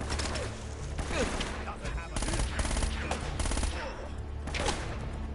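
Rapid gunfire in Uncharted: Drake's Fortune, with bursts of automatic shots and repeated cracks stacking into a near, busy firefight that keeps going for several seconds, with no talk over it.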